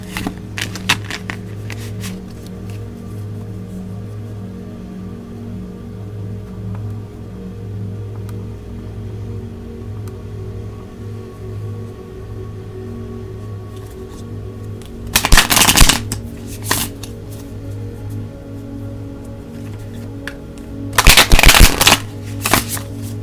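Tarot cards riffled in two short, loud shuffling bursts over a quiet, steady background hum, with no talk.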